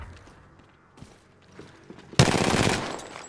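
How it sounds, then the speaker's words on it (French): Gunfire from the video game Apex Legends on PS4 Pro erupts abruptly as a loud, dense automatic burst after a stretch of quiet clicks and mechanical handling sounds. "On me tire dessus"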